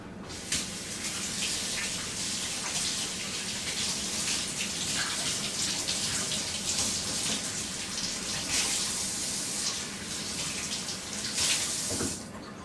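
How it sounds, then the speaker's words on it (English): Running tap water splashes as hands are rinsed in a home kitchen while preparing a chicken, a steady close gushing hiss with small surges of splashing. "Let me rinse my hands."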